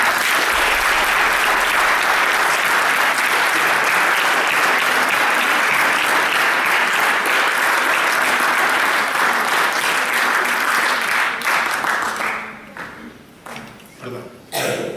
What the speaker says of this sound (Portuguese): Dizer aqui ao Coronel Silvério que ele foi aplaudido de pé.